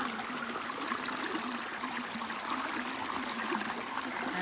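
A river in Jamaica flowing over rocks, a steady, close rush and trickle of water that stays even and continuous, with no voices.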